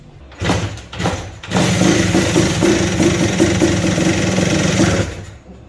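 A TNT 135 motorcycle with a swapped-in 2-stroke engine idling, a rapid buzzing putter that fires up after a couple of short bursts and holds steady and close before fading out.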